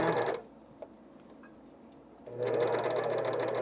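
Sewing machine stitching lightweight underwear fabric, its steady motor whir running loud at the start, dropping away through a quiet middle stretch, then resuming strongly to the end.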